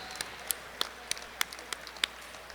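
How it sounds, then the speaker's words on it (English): A dinner crowd at the Beckley-Raleigh County Convention Center gives scattered, faint applause with a few sharper claps popping out, fairly distant and thin. "Let's give the Beckley-Raleigh County Convention Center a round of applause."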